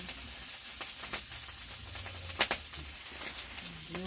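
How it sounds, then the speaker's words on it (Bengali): Gandhi snails cooking in a home kitchen pan give off a quiet, steady frying sizzle, with scattered sharp pops and crackles, one brief louder burst near the middle, and no talk. "ও তো ফটফট করছে।"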